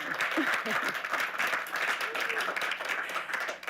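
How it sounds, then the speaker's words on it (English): Audience applause at an immersive-technology awards ceremony, a steady wash of many hands clapping that holds throughout at moderate loudness. "let's take a moment and clap on that"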